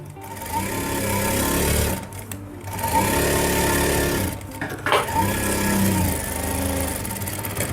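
A sewing machine stitches the hem of a salwar cuff, running in steady sustained bursts with brief pauses between runs, close and loud with no talking.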